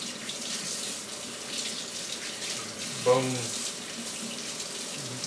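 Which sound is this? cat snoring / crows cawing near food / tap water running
tap water running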